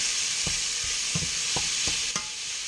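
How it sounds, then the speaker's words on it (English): Food sizzles steadily in a hot pan while a utensil scrapes and stirs it in several irregular strokes. "here I am just mixing up the tofu here"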